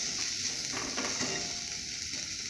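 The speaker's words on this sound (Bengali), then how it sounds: "এরপর পেঁয়াজ, আদা, রসুন, কাঁচা লঙ্কা দেব। এভাবে ভালো করে ভেজে নেব।" Onion, ginger, garlic and green chilli fry in a pan with a steady, close sizzle, while a spoon scrapes and stirs now and then; no one talks.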